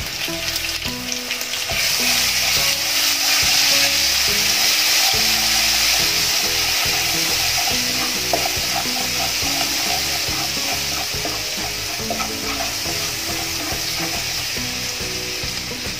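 Asafoetida, turmeric and crushed garlic hit hot oil for a cluster bean curry, giving a loud, continuous close-up sizzle with a spatter of crackles and the scrape of stirring.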